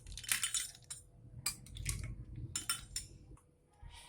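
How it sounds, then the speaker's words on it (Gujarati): Ice cubes dropped by the spoonful into a glass of rose milkshake, giving several clinks and light clatters against the glass, close and moderately quiet. "હવે આપણે મિલ્કશેકને ગાર્નિશ કરવા 2 to 3 સ્પૂન આઈસ ક્યુબ્સ નાખશું।"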